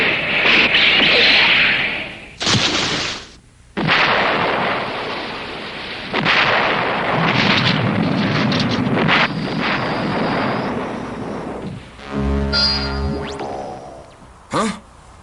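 A cartoon combining robot fires its Viking missile, a loud whooshing, rumbling launch and explosive roar with several sharp bursts and a brief rhythmic mechanical pulsing near the end, no talk over it.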